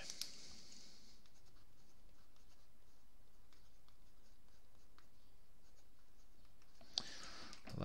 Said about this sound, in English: I should probably write those down actually